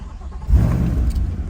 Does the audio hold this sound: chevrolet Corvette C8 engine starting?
yes